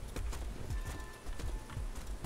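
Horse hooves clip-clopping in the medieval combat game War of the Roses, a steady run of close, fairly loud hoofbeats over a dull background bed, with no voices.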